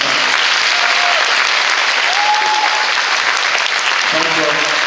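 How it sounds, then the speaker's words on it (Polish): Loud, dense applause from a large audience at a Christmas carol and pastoral concert, steady throughout with a few voices faintly audible underneath. "wielkie brawa, naprawdę wielkie brawa"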